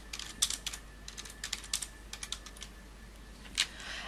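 Quiet, irregular keystrokes come from a computer keyboard, with a few soft clicks in uneven bursts and short pauses between them, close to the microphone and without talk.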